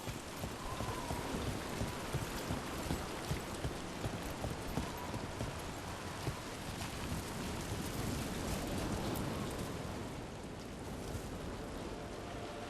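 Steady rain falls in a fantasy game world in Dragon Age: The Veilguard, a dense continuous wash of drops with some clip-clop-like patter underneath, holding at an even level throughout.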